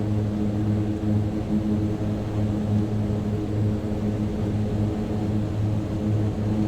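A Mitsubishi MU-2 turboprop in Microsoft Flight Simulator at full throttle and full props on its takeoff roll, a steady loud engine drone with a low tonal hum, constant and unbroken throughout.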